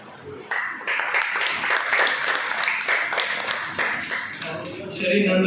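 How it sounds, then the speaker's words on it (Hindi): Audience applause at a book release ceremony, a dense burst of clapping that swells and holds, with a voice briefly audible near the end. "तालियों की गणना होनी चाहिए, सबसे बड़ा ये सम्मान है।"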